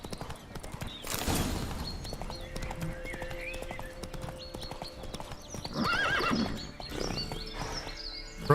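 Roach the horse gallops in The Witcher 3, hooves clip-clopping in a steady rhythm under game ambience, with a horse whinny partway through.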